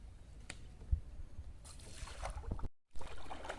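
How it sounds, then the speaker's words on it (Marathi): Oars paddling a small boat through a tidal creek near Alibaug, with soft splashes and sloshing water in a steady, quiet outdoor scene and a brief dropout near the end. "भाऊ आहेत ते आता बोट चालवत आहेत म्हणजे वल्ला चालवत आहेत"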